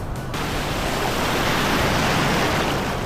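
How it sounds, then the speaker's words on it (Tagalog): Strong ocean waves wash onto a beach at Boracay, a loud, steady roar of surf that fills the whole stretch without a break or any voices. "Ang lakas ng alon na yun ah."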